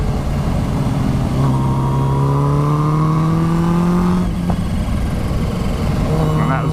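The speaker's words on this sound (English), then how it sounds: "Exhaust, not the blow-off valve." A Kawasaki H2 motorcycle fitted with a Turbo Smart blow-off valve revs up on the road, its exhaust note rising in a long climbing whine, then dropping off before picking up again, under wind noise.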